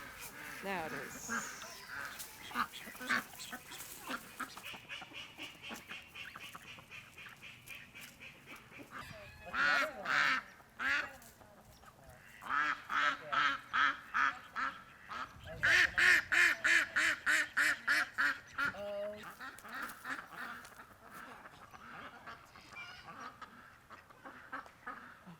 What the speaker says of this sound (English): we have these 2 ducks